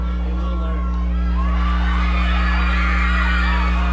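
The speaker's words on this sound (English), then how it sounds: "We can hear the cheer of the cheerleaders for Doherty trying to pump up the defense." Crowd cheering and yelling from the stands at a high school football game between Doherty and Shrewsbury, a steady distant roar beneath constant low field hum, with scattered shouts rising and falling.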